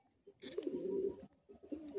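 Breeding pigeons in a loft coo softly in two short bursts, the second starting after a brief quiet gap, with no talk over them.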